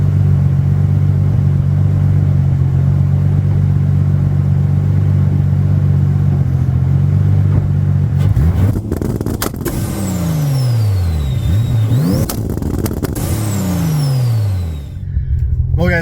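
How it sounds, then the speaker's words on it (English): A Mk3 Supra with a hood-exit wastegate dump idles loudly and steadily, then holds at launch control and fires anti-lag two-step bursts. Engine note swoops up and down in repeated revs, close and loud. "do a couple launch controls or some anti-lag two-step"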